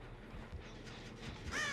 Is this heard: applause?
no